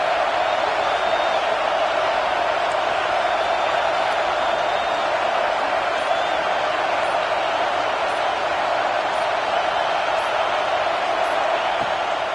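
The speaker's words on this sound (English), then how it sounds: "Decibels rising as the crowd gets behind this defense on third down" A football stadium crowd roars steadily on a third-down defensive stand, a dense, constant wall of noise with no letup.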